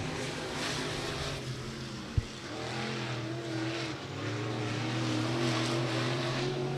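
Race cars run qualifying laps at Beckley Motor Speedway, with a steady engine drone heard from a distance over broad track noise and a single sharp knock partway through.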